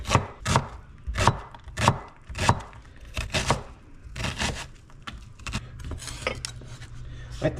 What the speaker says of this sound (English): cut up some onions and some celery, some carrots